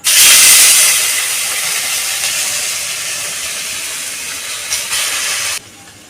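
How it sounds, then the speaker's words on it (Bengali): Moong dal hits a freshly washed wok that is still slightly wet and fries with a loud, steady, close hiss. The hiss surges at the start and holds for several seconds before dropping away suddenly, with no talking. "দিয়ে দিয়েছি কড়াইতে ডালটা ভেজে নেব"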